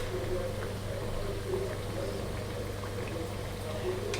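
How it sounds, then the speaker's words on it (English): Jodhpur khasta onion kachori frying in oil over a low flame, giving a steady, even bubbling sizzle that holds a constant level throughout. "So in the low flame I will fry it properly."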